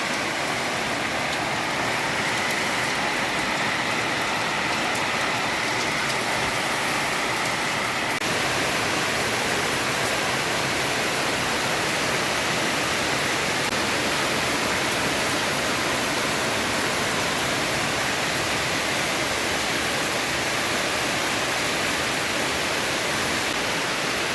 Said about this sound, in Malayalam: കണ്ടോ, നല്ല മഴയാണ്.